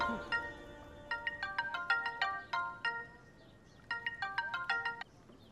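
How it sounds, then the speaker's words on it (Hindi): An incoming call's melodic phone ringtone plays in repeated bursts of bright electronic tones, fairly loud and clear against a quiet background, stopping after a few seconds. "मेरी माँ का फोन आ गया"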